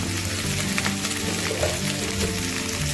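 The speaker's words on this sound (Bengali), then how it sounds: "আদা বাটা দিয়ে ভালো করে নেড়ে" Ginger paste stirred and fried in a pan for a Bengali vegetarian aloo dum, giving a steady, moderate sizzle with soft scraping from stirring and no talking.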